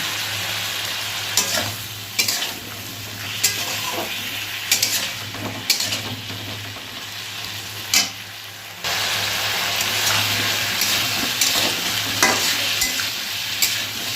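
Gati kochu (taro) curry being stirred in a pan after chili paste and a little sugar go in, a steady low sizzle of frying with scraping stirs and occasional utensil knocks, close and alone.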